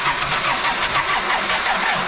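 An old Ford Fox Body Mustang with a new starter cranks in the cold without catching, a continuous rough, rhythmic churning whir, loud and close, with no talking.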